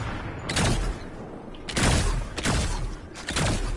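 Bursts of automatic gunfire from guns in a Fortnite no-build squads match, three loud volleys spaced a second or so apart, each a rapid rattling burst with booming low end, no talking over them.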